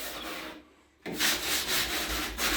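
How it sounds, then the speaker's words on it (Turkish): Close, steady rasping strokes of sandpaper rubbed across wood, briefly pausing then resuming in a rhythmic back-and-forth, quiet and with no voices. "Tozunu toprağını zımparalıyorum şöyle."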